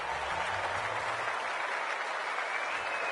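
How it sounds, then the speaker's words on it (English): Football crowd at a women's league match making a steady, broad roar of cheering and applause as the captains meet, loud and continuous throughout with no clear talk on top. "The crowd already making plenty of noise as the captains come together."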